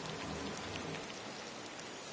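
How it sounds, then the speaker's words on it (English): Heavy rain pours down in Disney Dreamlight Valley, a dense, steady hiss of drops on the ground that stays even throughout, with no talking. "If only it wasn't raining so bad."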